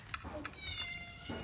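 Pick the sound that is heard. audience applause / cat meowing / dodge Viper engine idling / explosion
cat meowing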